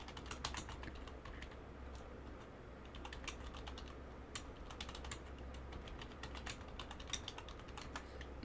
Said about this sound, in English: Y'all must be able to hear me typing,